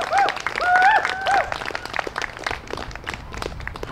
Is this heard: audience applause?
yes